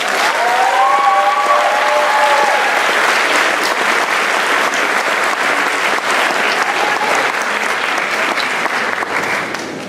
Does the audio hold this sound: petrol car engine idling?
no